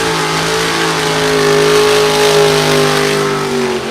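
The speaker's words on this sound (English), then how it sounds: "Super Comp Dragster, getting ready for Midwest Super Comp action right here at Byron Dragway next weekend." A Super Comp rear-engine dragster at Byron Dragway roars down the quarter mile off the throttle stop, a loud, sustained high-revving engine wail with a slowly shifting pitch, no talking.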